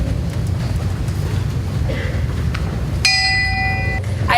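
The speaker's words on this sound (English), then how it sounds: "I toll the bell for the second president, the one who graduated the first college class in 1879" A single bell tolls at a university Founders' Day convocation, ringing out once with a bright, sustained metallic tone that hangs over a busy hall murmur of crowd noise and low rumble.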